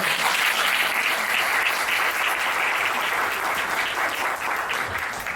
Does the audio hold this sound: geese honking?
no